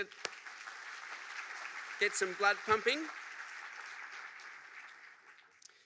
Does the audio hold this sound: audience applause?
yes